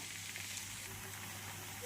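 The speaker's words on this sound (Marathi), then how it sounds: "तर छान असं आपलं कारलं फ्राय करून घेऊया" Bitter gourd slices frying on a flat iron tava, giving a faint, steady low sizzle that holds evenly throughout with no voices.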